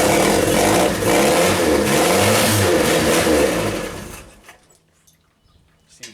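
The carbureted engine of a Genie boom lift runs roughly and rich for about four seconds, a loud, uneven mechanical drone that dies away abruptly into near silence with a few faint knocks.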